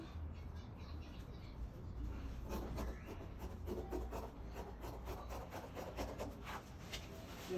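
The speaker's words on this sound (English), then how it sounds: "So I'll just try cutting it for you to see." Scissors cut through fabric for an A-line gown with a trumpet sleeve, making a quiet, close rasping of repeated snips and rubbing along the cloth, with no talking.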